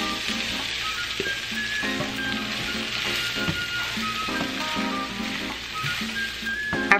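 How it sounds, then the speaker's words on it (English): Ground meat and garlic sizzle steadily in a hot pan for baked ziti, a continuous close frying hiss with occasional stirring scrapes and no talking. "After cooking the garlic for 20 seconds, add your meat back to the pan"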